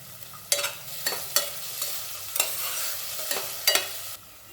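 Ingredients for masala rice sautéing in a pan, a continuous sizzle broken by about eight sharp spatula scrapes at an uneven rhythm, close and clear.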